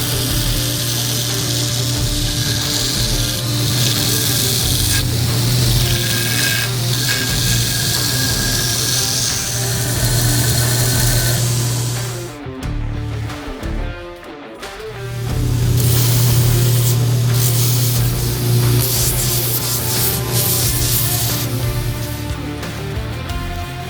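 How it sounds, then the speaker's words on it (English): A power sander grinds steadily on a pinecone knife handle, a loud continuous buzzing whir that briefly drops off midway before resuming at full strength. "Now let's start sanding it."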